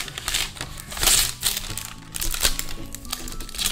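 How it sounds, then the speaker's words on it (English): A knife cuts through parchment paper wrapped around a homemade fruit roll-up, giving crisp crinkling and crunching bursts that rise and fall in short waves, close up. "you're going to take your knife and you're going to carefully cut one end of your parchment"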